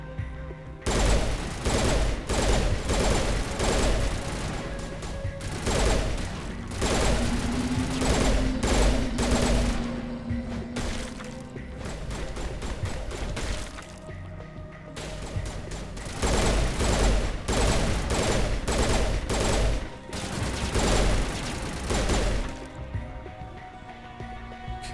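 Rapid gunfire from Mass Effect Legendary Edition rattles on in dense, sustained volleys with brief pauses, loud and close throughout nearly the entire stretch.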